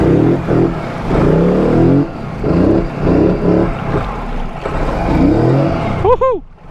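A 2019 Polaris Highlifter ATV engine revs hard at full throttle, loud and close, with shouting voices over it and a short squeal near the end.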